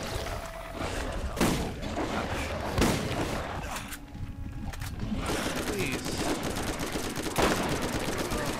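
Rapid gunfire in the video game Borderlands, bursts of shots with sharp repeated cracks alternating with brief gaps, loud and dense, with a player's voice mixed in.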